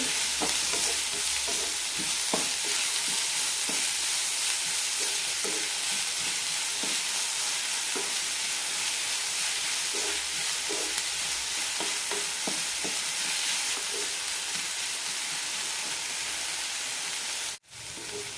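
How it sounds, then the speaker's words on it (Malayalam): Sliced onions with salt and turmeric sauté over a low flame in a pan for Bombay chutney, a steady soft sizzle running throughout with repeated scraping stirs of a spoon, close and alone. "ലോ ഫ്ലെയിമിലിട്ട് വേണം വഴച്ചെടുക്കാൻ സവാളയുടെ കളറ് മാറേണ്ട ആവശ്യമില്ല"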